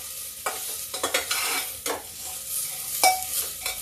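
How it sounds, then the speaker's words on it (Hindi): Cabbage stirred and fried in a pan over a low gas flame, giving a steady sizzle broken by scraping strokes of a spoon against the pan. "अब पत्ता गोभी भी हम भूनते हैं।"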